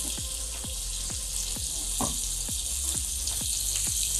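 Prawns frying in a pan over medium-low heat, a steady bright sizzle with repeated soft taps of stirring every half second or so, no talking.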